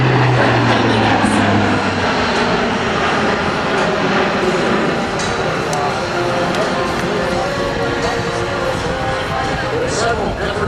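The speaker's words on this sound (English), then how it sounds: "C-130 Hercules is a four-engine turboprop military transport aircraft built by Lockheed" Lockheed C-130 Hercules four-engine turboprop military transport at an airshow, a loud steady propeller drone that fills the whole stretch, with crowd voices mixed in underneath.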